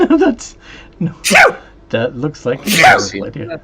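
Two sharp sneezes from a person at a tabletop role-playing session, each a sudden burst, mixed in with people talking nearby.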